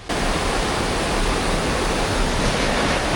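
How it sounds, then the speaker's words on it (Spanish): A loud river in Colombia rushes steadily at close range, a dense, unbroken roar of flowing water with no voices. "Y aquí se puede escuchar ya fuerte el río."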